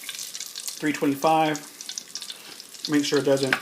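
Falafels deep frying in hot oil make a steady, close sizzle and crackle beneath someone talking in two short bursts.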